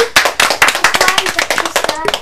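A small group claps for Lucie, a child who gave a correct answer on a radio programme, with sharp, uneven hand claps close by and voices speaking and cheering over them.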